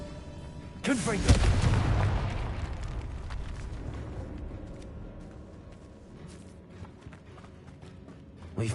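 A Confringo fire spell blasts in Hogwarts Legacy: a sudden booming burst with a roaring crackle that fades into a long rumbling tail inside a tomb.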